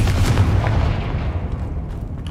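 A booming blast from a Confringo spell in a Hogwarts Legacy video game bursts at once, loud and close, then fades into a rumbling decay.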